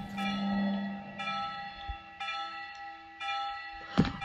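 Church bells ring in the horror video game Slender Haunted Memories: resonant, sustained strokes about once a second, each decaying into a long ringing hum, with a low drone underneath and a sharp knock near the end.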